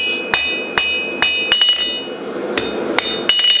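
A blacksmith hammers steel flat on an anvil, about eight sharp, ringing blows landing close by at an uneven pace, with no talking.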